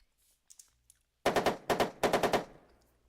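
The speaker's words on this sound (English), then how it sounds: "So he's firing the machine gun at him." Machine gun fire in the tank game Armoured Commander II comes in two sharp bursts of about four rapid shots each, loud and close, after a few faint softer clicks.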